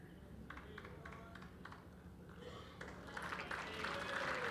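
Applause from the crowd at an indoor bowls championship rises from scattered faint claps to a fuller round at the end, with commentary in the background.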